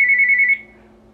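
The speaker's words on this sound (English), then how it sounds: "Sorry, phone's ringing." A single loud, near electronic telephone ring tone holds steady for about half a second and then cuts off, leaving a quiet room.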